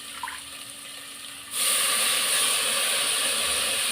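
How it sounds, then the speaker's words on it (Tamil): Mint leaves dropped into a pot of sautéing ingredients for one-pot coconut milk rice, a quiet hiss that suddenly swells into a loud, steady sizzle and stays there. "இப்படி வதங்கும் போது நான் புதினாவையும் போட்டுக்கிறேன்"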